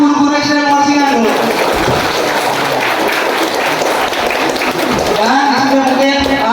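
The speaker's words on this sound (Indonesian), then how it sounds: "Tepuk tangan buat guru-guru SDN Muara Singa dulu." Applause from a school farewell and graduation ceremony for sixth-grade students, with a loud, dense crowd clapping and cheering held under ongoing voices for the whole stretch.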